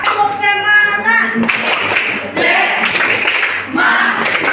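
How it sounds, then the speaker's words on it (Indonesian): A group of participants in an Islamic religious education class claps a rhythmic cheer routine together, with patterned bursts of clapping alongside loud voices chanting in unison. "Tepuk semangat."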